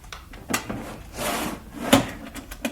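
A desk drawer is pulled open in a radio drama spy scene, giving a soft wooden rub and rattle with a couple of sharper knocks, close and fairly quiet with no voices.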